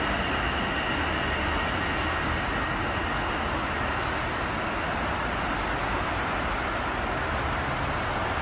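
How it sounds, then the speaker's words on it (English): An LIRR commuter train arrives at a station with a steady loud rumble and roar, continuous and even in level throughout, with no talk. "The 731 train to Grand Central is now arriving on track 3."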